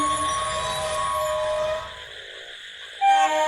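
A passing train with a sustained horn blast over rumbling carriages, the drone fading partway through before a second brief horn sounds near the end, heard without any talk.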